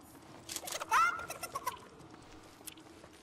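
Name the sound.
chicken clucking in a battle royale video game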